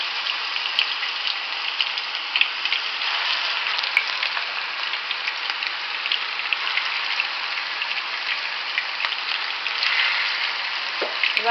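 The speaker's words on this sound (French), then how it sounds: "Et voilà nos boulettes déjà au feu, ça se cuit" Meatballs fry in hot oil with a steady, dense sizzle and crackle, close and continuous, with small pops scattered throughout.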